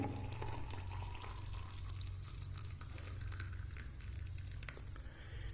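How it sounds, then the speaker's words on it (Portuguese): Hot water pours into a glass during a home physics demonstration of the Mpemba effect, a soft continuous liquid trickle and fill under a low steady hum, with no one speaking. "no outro copo, a gente vai colocar água quente"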